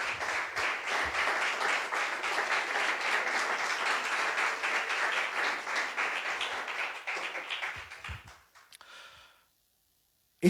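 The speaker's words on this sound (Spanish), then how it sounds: "Démosle un aplauso al Señor." A church congregation at a Thursday meeting gives a sustained round of applause that stays fairly even for about eight seconds and then fades quickly into silence.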